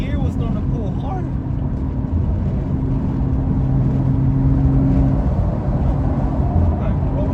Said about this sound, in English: Fifth gear was starting to pull harder.